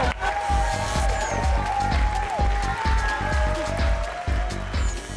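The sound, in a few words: studio audience applause for the DJ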